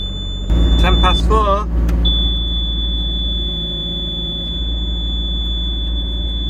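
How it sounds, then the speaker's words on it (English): A steady high-pitched electronic beep tone from a faulty quick hitch warning sounds continuously, briefly broken by a short burst of nearby talking, then carrying on alone over a low engine rumble. "I've heard that beep long enough today now."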